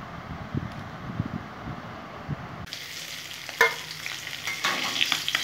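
Whole cumin, coriander, dried chillies and ginger dry-roast in a wok with a soft rustling crackle and occasional scrapes of a stirring spoon, close by, under a faint airy background.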